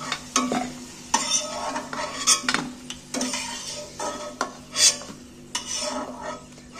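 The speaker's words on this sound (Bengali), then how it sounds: "এইবার আমি আলুগুলোকে তেল থেকে তুলে নিচ্ছি" Fried potatoes are scooped out of hot oil with a metal spoon, a run of close scraping and clinking strokes against the pan over a light sizzle.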